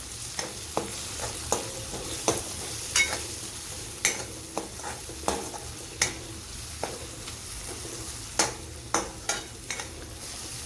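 Kitchen King masala and salt sauté in a pan with onion for Maharashtrian mug dal kanda bhaji, a soft continuous sizzle broken by sharp, regular spatula scrapes and taps, close and alone.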